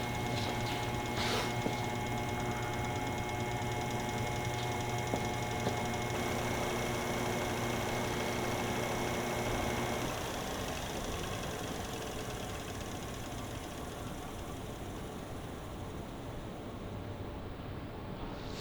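A balancing machine spins a flathead Ford V8 pulley assembly with a replacement pulley fitted, a steady close whir with humming tones that shifts and eases after about ten seconds, with no voices.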